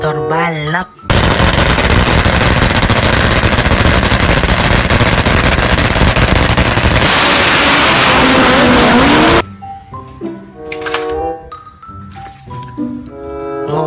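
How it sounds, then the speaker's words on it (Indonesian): A racing motorbike's loud, roaring engine races for several seconds, steady and intense, then cuts off abruptly into quieter mixed sounds. "Motor balap."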